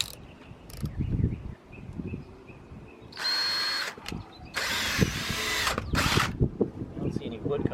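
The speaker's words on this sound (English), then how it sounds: "I think I need a longer drill bit" A power drill whirs in two loud bursts of a few seconds each, separated by pauses, with handling clatter and faint room noise in between, drilling through tar into wood in a garage.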